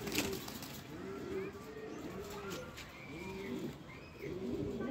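Green-breed pigeons coo in repeated soft, throaty phrases, fairly close, over a quiet background.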